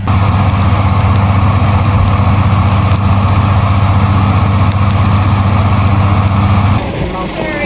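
A fire truck engine idles at a farm, a loud steady low rumble held close for nearly seven seconds before it suddenly drops off, with faint voices beneath.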